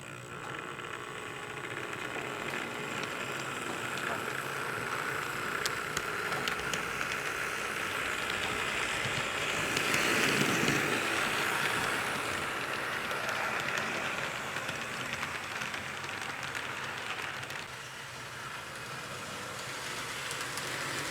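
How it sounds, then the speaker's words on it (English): A model train switch engine on a layout hums and rattles steadily along, swelling briefly louder midway, with no voices. "I think that's going kind of fast for a switch engine there."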